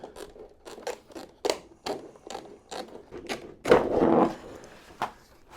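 Repeated sharp snips of scissors cutting through thin underfloor heating film, a quick irregular series close by, with one longer crinkly cut midway.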